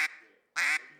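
Two short, raspy coarse hen quacks from a double reed duck call, the first clipped and the second fuller, close and loud with a brief pause between them.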